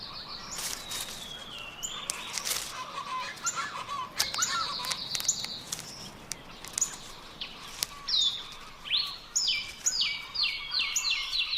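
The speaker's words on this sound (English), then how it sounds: "The characteristic call and eye-catching display of Moctezuma's Oropendula rings through the canopy." Montezuma oropendola calls ring through a rainforest canopy: repeated liquid gurgling notes and rising bubbly phrases, moderately close, over steady insect and forest ambience, with other birds chirping in the background.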